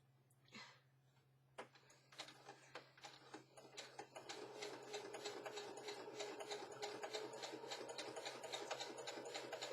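A sewing machine stitching journal cards: a few isolated clicks and thumps at first, then a rapid, steady mechanical chatter of stitching that builds and runs continuously over a low hum, close and alone.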